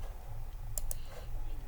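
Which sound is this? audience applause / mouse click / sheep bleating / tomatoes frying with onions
mouse click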